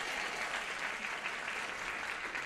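Steady applause from a game show studio audience, a dense wash of many hands clapping continuously with no voices standing out.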